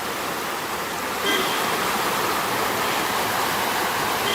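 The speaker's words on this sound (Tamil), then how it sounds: "அந்த ஆறும் இதில் ஜாயின் பண்ணிட்டு பெருஞ்சானை டேமுக்கு போகிற ரிவர் இது" A river in Keeriparai Reserve Forest, Kanyakumari, flows toward Perunchani Dam with a steady, full rushing wash of water, close and constant throughout.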